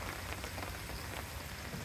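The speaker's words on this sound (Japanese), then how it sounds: "雨降ってきちゃって" Rain falls steadily at a summer campsite, a dense, even hiss of drops on surfaces, quiet but continuous for the whole stretch with no voices.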